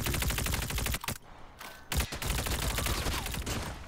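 Rapid automatic fire from a Tech 9 in a video game, loud dense bursts cracking continuously with a brief pause near the middle, then resuming hard to the end.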